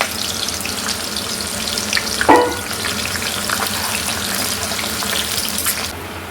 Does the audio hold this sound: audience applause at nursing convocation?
no